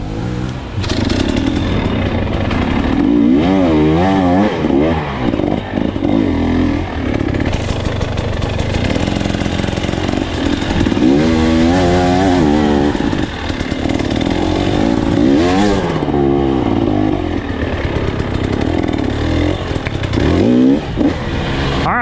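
A KTM 300 XC-W two-stroke enduro dirt bike ridden over mounds, its engine loud and close with repeated revving surges and rising, falling pitch sweeps over a constant rasping drone.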